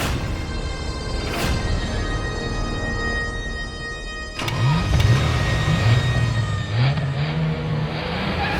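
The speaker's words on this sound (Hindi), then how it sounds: "चला ना गाड़ी।" A car's engine rises sharply midway and revs hard as the vehicle pulls away, its pitch climbing and falling through gear changes over a steady background drone, with no talk.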